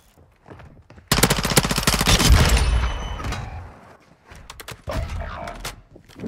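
Loud, dense automatic gunfire erupts in the video game Call of Duty: Modern Warfare 2, a sustained rapid burst followed by quieter scattered shots and game sounds.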